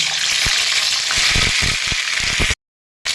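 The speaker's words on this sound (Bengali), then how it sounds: "আগে আমি শিমটা একটুখানি সতে করে নেব।" Flat beans sautéing in hot oil in a wok give a steady, loud broadband sizzle with scattered crackles and stirring clicks. It runs close and continuous, then cuts to brief silence near the end.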